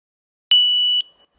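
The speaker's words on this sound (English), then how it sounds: "And yep, the alarm goes off." A MADMAN EMS3 temperature gauge alarm sounds a single sharp, high electronic beep lasting about half a second, loud and close, with a brief faint chirp just after in otherwise silent surroundings.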